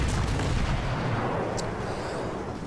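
Naval guns of the cruiser Atlanta firing in the World of Warships video game. The result is a loud, rumbling boom of gunfire that fills the clip and fades slightly toward the end, with no talking.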